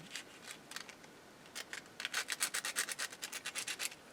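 Sandpaper rubbing the sharp edges of a metal washer during an Akai AP-206 turntable repair: a few scattered strokes, then a quick steady run of about a dozen rhythmic scratchy rubs, close and fairly quiet with no talk.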